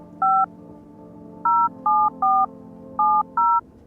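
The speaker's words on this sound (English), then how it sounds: "So I can call my neighbor." Touch-tone keypad beeps from a phone in a horror video game, six short dual-tone presses in uneven groups over a low steady hum, with no voice.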